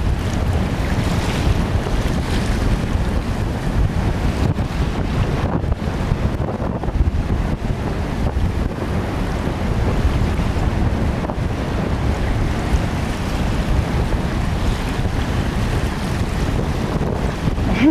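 Strong wind roars at Minerva Reef, buffeting the microphone in a loud, constant rush, with waves and water noise mixed in throughout.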